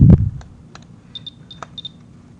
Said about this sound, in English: what's this little clicking noise? You've seen this in the movies. This is a what counter? Geiger counter, right?